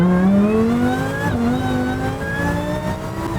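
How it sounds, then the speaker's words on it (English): A Lamborghini Huracan fitted with a VF Engineering supercharger revs loud and close, its high supercharger whine rising and dipping with the engine over a few seconds, with no talking. "The VF Engineering supercharger, you can hear it, it's so loud when it whines."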